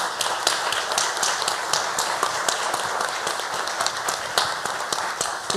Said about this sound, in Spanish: un aplauso para las tres